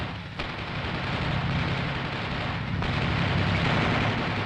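An M551 Sheridan armored reconnaissance vehicle fires its main gun: sharp blasts near the start and again a few seconds later, each breaking over a loud, sustained roar and rumble, with no talking.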